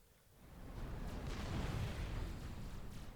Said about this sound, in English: Nice little bombing run.